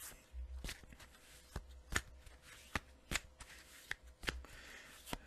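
Quiet, crisp riffling bursts of a deck of oracle cards being shuffled, several quick flutters with short pauses between, close and alone.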